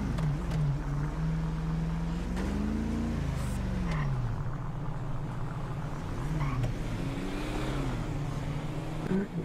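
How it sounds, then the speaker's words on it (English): Car engines hum and rumble in a roleplay video game street scene, a continuous drone with rising and falling pitch as vehicles move past nearby. "And there's a lot of cars over here."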